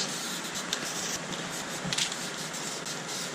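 An aerosol can of spray paint hisses steadily at close range while coating interior plastic, vinyl and leather, a continuous airy rush with slight fluctuations throughout.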